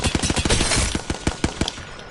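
Hemlock rifle firing in Apex Legends, a string of sharp, loud gunshots in quick bursts with short gaps between them, close and alone without talk.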